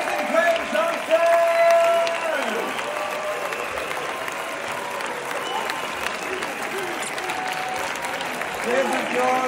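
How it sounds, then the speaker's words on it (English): A large crowd at a Berlin movie premiere applauds, with sustained dense clapping and some cheering, steady and loud throughout, while a voice carries over an amplified announcement. "This is your applause."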